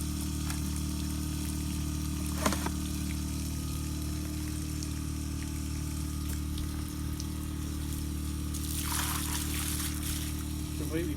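Water from an off-grid well pours and trickles steadily into a container against a low mechanical hum, with a brief splashy surge near the end.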